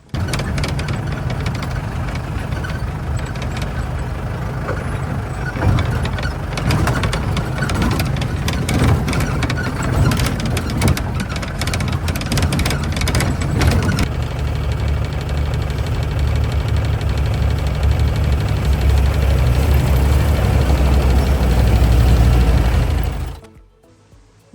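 Engine of a private jeep rumbling steadily on a bumpy hill road, loud and close throughout with rattling jolts and vibration, the sound shifting partway and then cutting off abruptly near the end.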